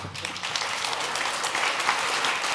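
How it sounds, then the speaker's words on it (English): A short burst of steady audience applause at an art and food event, dense, even clapping from a room of people throughout, with no voices over it. "We'll give them all a great applause"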